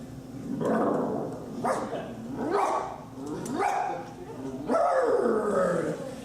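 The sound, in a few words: performer imitating a guide dog barking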